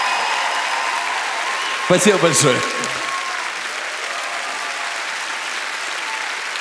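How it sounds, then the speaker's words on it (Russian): Audience applause fills the hall at a comedy league winter cup show, holding steady throughout while someone briefly says thanks over it. "Ваши бурные аплодисменты"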